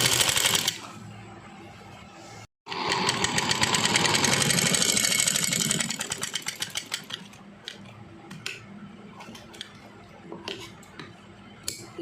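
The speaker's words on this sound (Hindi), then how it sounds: "कपड़े को ऐसे ऊपर फोल्ड करके सिलाई लगाते जाना है" A sewing machine runs in a steady fast clatter, stitching stretched elastic onto folded baby frock fabric, with a brief stop and then shorter stop-start bursts of stitching toward the end.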